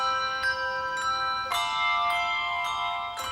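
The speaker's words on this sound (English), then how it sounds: "the Wilson family are 3 generations of hand bell ringers from Dunblane." Hand bells rung by a family of handbell ringers from Dunblane, several bright sustained tones struck one after another and left ringing, loud and close with overlapping decays.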